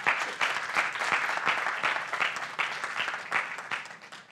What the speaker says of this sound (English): You clapped on cue.